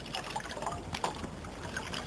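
A saponin-rich plant washed by hand in a bowl of water on a coast, giving close sloshing and trickling with small splashes that continue steadily throughout.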